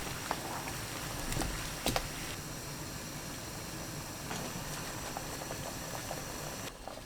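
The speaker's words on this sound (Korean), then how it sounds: "물이 팔팔 끓으면 굵은 소금 1큰술, 식초 1큰술, 우엉 넣고 5분 데칩니다" A pot of water with coarse salt, vinegar and burdock root rolls at a vigorous boil, a close, steady bubbling with a few louder pops and clinks along the way.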